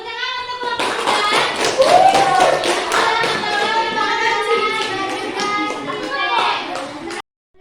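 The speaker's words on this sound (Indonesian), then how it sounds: "Tepuk tangan untuk bapak" A classroom of students claps for a man after a lesson on halal food, a steady run of rapid hand claps lasting several seconds, close and lively, with voices mixed in before it stops abruptly.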